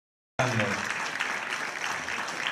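Audience applause erupts at a school Christmas gala, starting abruptly after a short silence, then a full, dense clapping wash that holds steady, with a voice briefly audible at the onset.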